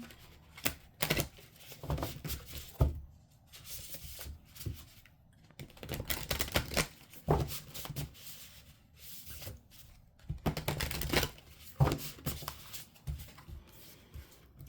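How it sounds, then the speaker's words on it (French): Angel tarot cards being shuffled up close in quick bursts of riffling and slapping, separated by short quiet pauses, with no speech. "on va faire le premier tirage avec le tarot des anges"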